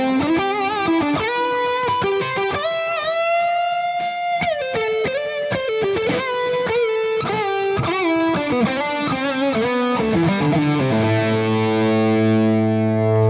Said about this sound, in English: I've got an exotic BB Andy Timmons signature pedal that they made for me